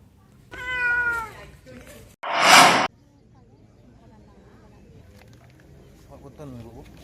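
A cat rescued after being trapped more than 10 meters up a building meows clearly in a short plaintive call, followed by a brief burst of noise and a quieter second meow.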